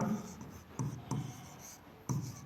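Chalk or marker writing an equation on a classroom board during a Class 10 maths lesson: steady scratchy strokes with a few sharp taps as it touches the surface, close and fairly quiet, with no talking.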